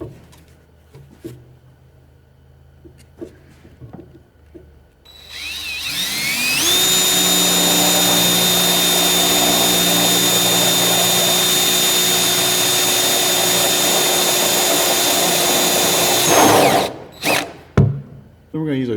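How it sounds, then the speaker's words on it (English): A center drill bores a pilot hole into the hood of a 2006 Duramax truck, running as one loud, steady drill whine for about ten seconds after some quiet handling noise, then stopping with a few clicks. "I'm going to use it's called a center drill here"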